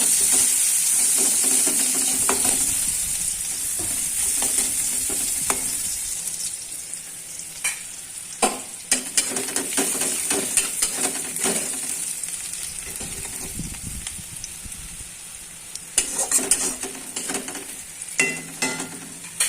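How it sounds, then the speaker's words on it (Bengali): Onions sizzle in hot oil while a spatula scrapes and clatters against the pan in repeated bursts as they brown; the frying hiss fades somewhat over time. "পেঁয়াজটা এবার লাল লাল করে ভেজে"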